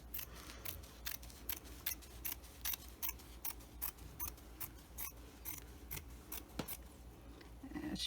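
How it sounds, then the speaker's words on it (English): Scissors snip through fabric for a child-size face mask in quick, regular crisp cuts, close and fairly quiet, with no talking. "We're just going to cut that really quick."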